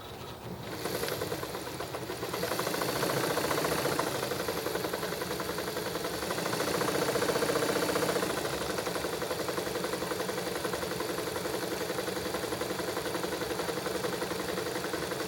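A sewing machine runs through a sewing test, a steady, close mechanical whir with fast needle chatter that continues without pause, and no one speaks.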